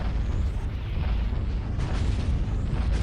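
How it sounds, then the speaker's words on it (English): Cannon fire and ordnance blasts from a Warhammer 40,000: Dawn of War battle rumble continuously in the distance, a dense, steady low roar with occasional swells and no talking. "The distant explosions of cannons and ordnance and such."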